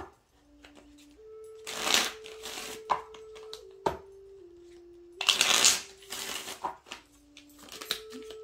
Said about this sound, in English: I think I'm going to pull some cards from this other deck as well too